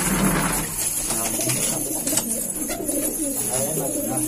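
Hyderabadi pigeons, all males in a net enclosure, coo in low, throaty rolling calls, several birds close by and overlapping, with faint rustling and wing movement around them.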